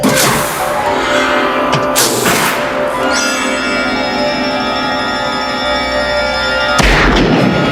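Sharp, loud gunshot blasts from a 1971 Dirty Harry film scene, a few booming cracks with ringing tails spaced across several seconds amid dense film soundtrack noise.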